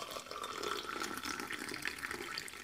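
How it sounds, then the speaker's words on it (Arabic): Boiling water pours over fennel seeds and a single star anise pod steeping in a cup, a steady splashing trickle running throughout, close and moderately loud. "وطبعا سأضيف للكل ماء غليان"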